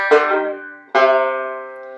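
Banjo tag ending lick: two bright, ringing strummed chords, the first decaying for nearly a second before the second rings out, played close and clear with no talking.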